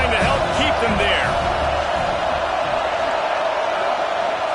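A football stadium crowd roars steadily throughout a college football game, a loud continuous wash of cheering and noise with an announcer talking over it.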